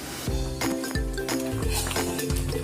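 A spatula scrapes and clinks rhythmically against a pan while taro flowers are stirred during cooking, regular strokes roughly every third of a second over a steady background hiss.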